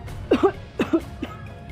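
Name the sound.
coughing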